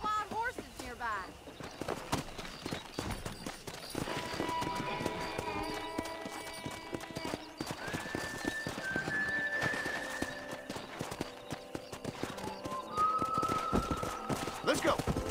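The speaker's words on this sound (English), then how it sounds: "there's a pack of wild horses nearby" Wild horses' hooves clip-clop with occasional whinnies in Red Dead Redemption 2, amid game music and background effects, with talk mixed in.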